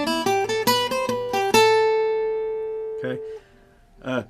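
A guitar lick of quick plucked notes played alone, ending in a long ringing note that slowly fades, followed by two short strums.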